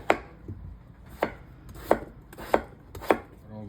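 Potatoes chopped with a knife on a cutting board: five crisp, evenly spaced chops about half a second apart, close and clear with no talking.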